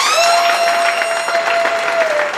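Wedding guests applaud loudly and steadily after a speech at a reception, dense clapping under a sustained tonal hum or feedback whistle.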